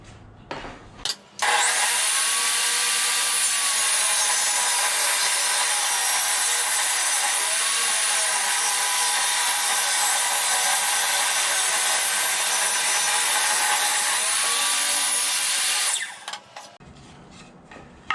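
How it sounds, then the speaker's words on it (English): A table saw rips a wood board to 3 1/8 inches in one long, loud, continuous cut lasting about fifteen seconds, with the blade spinning up before and winding down after. "we've got our table saw set to 3 1/8 inches"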